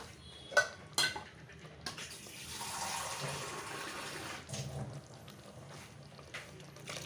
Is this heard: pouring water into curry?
yes